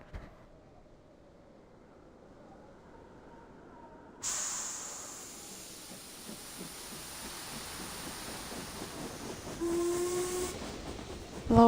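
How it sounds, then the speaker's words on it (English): Passenger train on the Danube Dawn line, a steady low rumble that thickens and grows louder partway through, with hissing steam and a brief whistle-like tone near the end, no voices. "Low rumbles drown voices, shouts, and any stray sound in the train."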